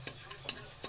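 Garlic frying in hot oil, a short steady sizzle with a few faint clicks of a utensil and one brighter metallic tap, close and alone without speech.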